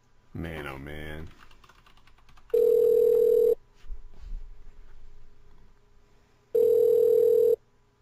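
An unanswered phone call in a game plays two long, steady electronic ring tones separated by silence, loud and close, with a brief burst of voice before the first ring.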